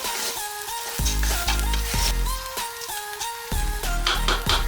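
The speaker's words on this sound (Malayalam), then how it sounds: "വീഡിയോയിൽ കാണുന്നത് പോലെ റൈസ് നന്നായി വറുത്തെടുക്കുക" Salted basmati rice, meant for dum biryani, roasts in a hot pan with a soft continuous sizzle. A steady musical drone runs under it, and it is heard close with no voices.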